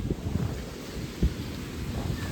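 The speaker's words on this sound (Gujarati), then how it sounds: "બહુ પવન છે જો મિત્રો" Strong storm wind with blowing dust and rain buffets the microphone in a steady low rumble, with a few heavier gusts thumping through, no voices.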